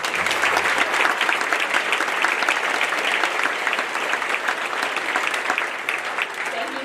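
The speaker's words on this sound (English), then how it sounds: "So let's give them one more round of applause." A large audience at a Northwestern Regional 7 band concert applauds loudly and steadily, a dense wash of clapping that fills the room for the whole stretch without a break.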